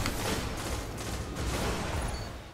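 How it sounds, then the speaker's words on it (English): A Suros ARI-41 auto rifle fires in Destiny PvP, sustained fully automatic bursts that run almost without pause at moderate loudness, with no talk. "Let's just appreciate the beauty of this auto rifle."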